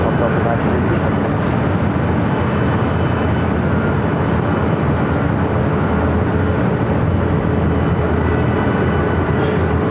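A Delta 938 Heavy jet rolls for takeoff on runway 24 left at LAX, producing a loud, steady broadband engine roar that holds unbroken for the whole stretch.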